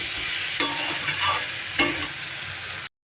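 Fish fries in a pan, giving a close, steady sizzling hiss broken by a few brief clattering knocks, with no talking.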